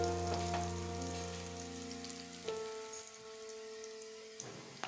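Chopped green chillies crackle and sizzle in hot oil in a pan for egg bhurji, a soft spitting fry beneath a droning tonal hum that cuts off partway through, with a few faint clicks.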